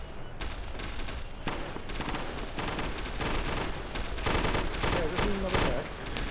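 Gunfire in a video game battle crackles in repeated bursts and rapid volleys, loud and dense throughout, with voices talking over it.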